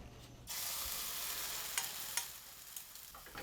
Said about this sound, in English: her mother is busy in the kitchen, cooking vegetarian noodles and frying eggs